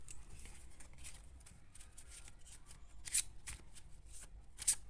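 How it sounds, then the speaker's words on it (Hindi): A deck of tarot cards is shuffled softly up close, giving quiet, steady riffling and sliding with a couple of sharper snapping flicks as cards are drawn. "मैं इसमें से टाइम प्रिडिक्शन कार्ड में से आपके लिए कार्ड निकालूंगी एक।"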